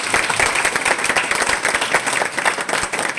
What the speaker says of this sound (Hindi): एक दमदार ताली बजाइए दोस्तों